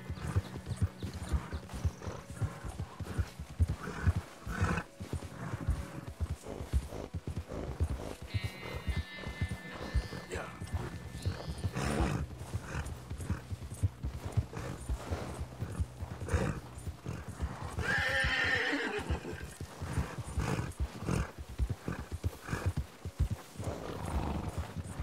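Horse hooves clip-clop in a steady trotting rhythm along a narrow path, with a loud whinny partway through and scattered rustling, close and continuous.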